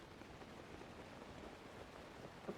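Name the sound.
rain in video game Zelda Breath of the Wild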